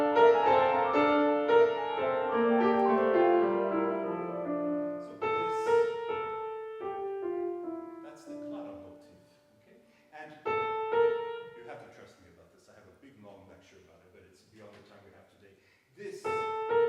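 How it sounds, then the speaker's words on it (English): Solo piano plays the opening theme of Schumann's Kreisleriana, a clear melodic line over chords with sustained notes and pauses, close and fairly loud, with no talking over it. "In the first movement, you hear a theme that sounds like this."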